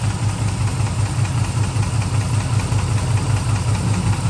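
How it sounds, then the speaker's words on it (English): A Dodge Ram engine runs steadily with a rhythmic low knock pulsing under a constant idle drone, close and loud with no talking. "Like you can hear it getting louder as the motor runs."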